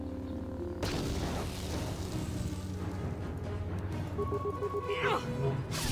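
A grenade detonates in the video game Star Wars: Knights of the Old Republic with a sudden heavy boom, followed by a rumbling, noisy wash of combat effects and a few bright tonal game sounds.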